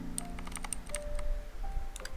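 A Rakk Ilis keyboard fitted with Ultimo blue clicky switches is typed on close by, giving a quick irregular patter of sharp clicks over a low background hum.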